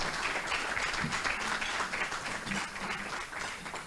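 Audience applause at a membership meeting, a moderate, continuous patter of clapping heard at a slight distance that tapers off toward the end.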